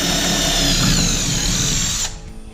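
A power drill bores mounting holes for a Torqeedo electric outboard motor mount on a Bonafide SS127 kayak, whining steadily and loud up close for about two seconds before winding down and cutting off.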